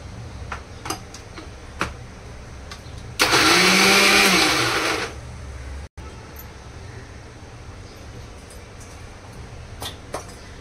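Mixer jar grinding peanuts with green chillies, a loud steady whirring burst of about two seconds that starts and stops abruptly, surrounded by quiet kitchen ambience with scattered faint ticks.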